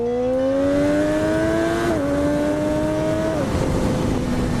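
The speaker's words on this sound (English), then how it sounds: "I also have a quick shifter, which it really enhances the sound because it is full throttle shifting." An engine exhaust revs hard at full throttle with a quick shifter, its loud, close tone rising steadily and dipping briefly at each rapid upshift, with no talking.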